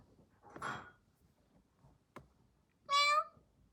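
A single short cat meow sounds near the end, clear and fairly close, following a soft, faint rustle and a brief tap in an otherwise quiet stretch.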